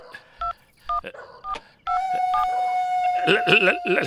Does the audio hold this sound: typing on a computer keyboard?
no